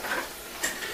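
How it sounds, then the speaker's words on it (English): London broil frying in grease in a pan, a steady close crackle and sizzle with faint ticking spatters, with no talk over it. "Frying the London broil."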